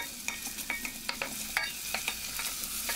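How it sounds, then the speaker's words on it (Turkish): Onions and garlic sautéing in a pan until golden, a steady sizzle broken by repeated scraping clicks of a spoon stirring, close and clear with no talking. "altın renk kalana kadar soğanlarımı da sarımsakla birlikte kavuruyorum"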